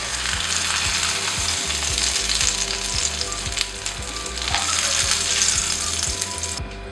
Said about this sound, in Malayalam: ബാക്കിയുള്ള ഫിഷുകളും നമുക്ക് ഇതുപോലെ തന്നെ ഫ്രൈ ചെയ്ത് മാറ്റി വയ്ക്കാം